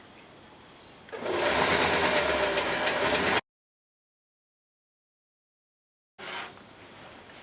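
A sewing machine runs steadily for about two seconds while stitching a rash guard in printed stretch fabric, sewing from the wrong side, with a rapid even clatter, then stops; quiet room tone precedes and follows.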